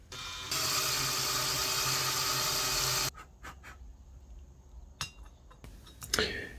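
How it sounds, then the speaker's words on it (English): A valve seat cutter works the 46-degree angle of a Harley-Davidson Sportster 883 cylinder head being converted to 1200 with big valves. A loud, steady whirring grind lasts about three seconds, followed by quieter metallic clinks and taps. "Here I'm going to hit the 46-degree angle portion of the valve seat to sink the valve deeper into the head."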